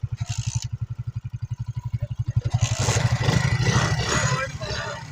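A Honda CG125 125cc motorcycle engine revs in a motorcycle contest, a rapid rhythmic thumping that speeds up and rises into a louder, rougher roar, with people talking over it.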